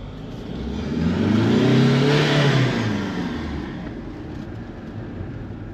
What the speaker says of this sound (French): J'ouvre ma vitre, on va écouter la belle mélodie de ce 4 cylindres diesel.